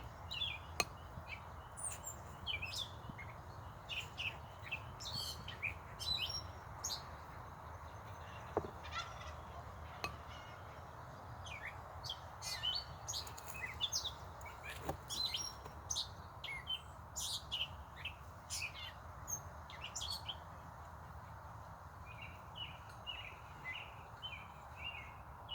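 A catbird sings outdoors, giving a long, irregular run of short chirps and squeaky call notes, with no voices. The notes come fairly faintly over a steady low background hum.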